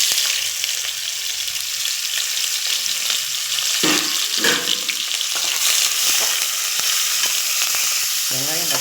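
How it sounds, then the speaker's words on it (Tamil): Green chillies and bay leaves fry in hot oil for mushroom biryani, a steady close sizzle throughout with a few louder crackling bursts and stirring scrapes midway. "நம்ம வெட்டி வச்சுருக்கிற பச்சை மிளகாவையும் பிரியாணி இலையும் நம்ம போடுறோம்."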